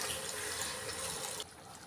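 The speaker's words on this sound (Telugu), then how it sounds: "నీళ్ళు పోసుకోవాలి." Water poured from a vessel into a cooking pot of mutton curry on the stove, a steady close splashing stream for about a second and a half that then stops abruptly.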